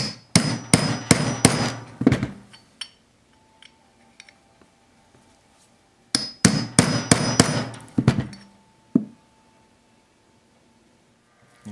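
Hammer blows tapping a bearing race down on the pinion of a 1979 Triumph Spitfire 1500: two rapid bursts of sharp metallic strikes, about seven each, with a few isolated taps between and after, close and loud.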